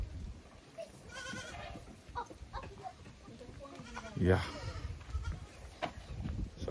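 Goats in a pen bleat a few times, one loud close call standing out, while people talk quietly nearby.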